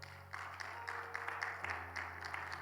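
Steady crowd applause at a Bible seminary class, dense continuous clapping throughout, fairly distant and reverberant, with a low hum underneath.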